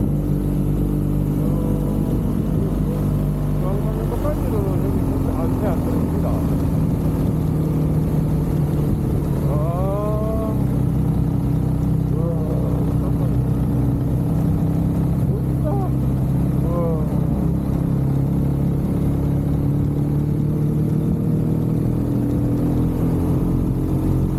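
A BMW R1250GS Adventure motorcycle climbs the winding Misiryeong mountain pass in Gangwon, its engine a loud, continuous drone mixed with wind rush, with occasional rising pitch sweeps as the rider shifts and accelerates.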